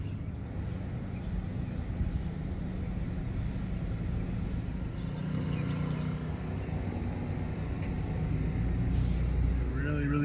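Car driving slowly through hurricane-damaged streets in Fort Myers after Hurricane Ian, with steady engine and road rumble throughout and faint background noise, close and continuous.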